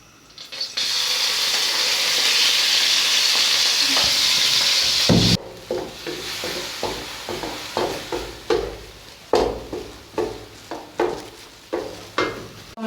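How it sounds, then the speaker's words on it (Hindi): Minced meat (keema) frying in hot oil in a pan: a steady loud sizzle for about five seconds, then repeated stirring scrapes and clatters with the sizzle continuing underneath, no talk. "थोड़ा सा ऑयल डालेंगे इसमें कीमे को फ्राई करने के लिए।"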